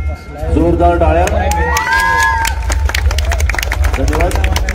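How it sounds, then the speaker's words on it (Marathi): A crowd breaks into loud, sustained applause and cheering at a competition prize ceremony as the first-place winner of a group is honoured, with a voice speaking over the start before rapid clapping fills the rest. "जोरदार टाळ्या"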